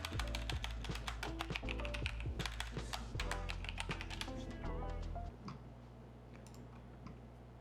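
Typing on a computer keyboard, a fast, steady run of close, crisp key clicks with no talking, easing off slightly toward the end.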